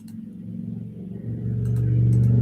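A vehicle speeding past outside, a low engine rumble that swells and grows louder toward the end, heard at a distance through walls with no talk over it.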